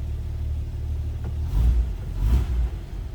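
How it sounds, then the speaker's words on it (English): A 1950 Chrysler Windsor sedan's engine runs at a smooth, low idle with a steady rumble and two brief swells as the throttle is blipped, close and alone without talk. "Let's go ahead and fire this up. It's a smooth running car, sounds good. Listen how easy it starts."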